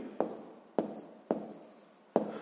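Handwriting on paper while working a sixth-grade maths proportion problem, four crisp pen strokes spaced about half a second apart, near and soft, with no voice.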